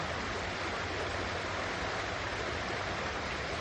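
Water flowing down a stream, a steady broadband rush of running water that stays even and continuous throughout, alone with no voices.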